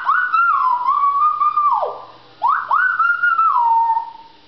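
A pet parrot whistles loud, clear sustained notes near at hand, gliding up and down in a tune with a brief pause midway, with no talk over it.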